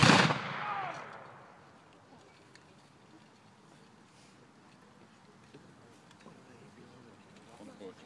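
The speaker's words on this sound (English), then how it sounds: "Front rank, ready! Aim! Fire!" A volley of muskets fired together by the front rank at a Civil War reenactment of the Stones River battle: one loud, sharp blast whose echo rolls away over about a second, followed by quiet outdoor ambience with faint distant sounds.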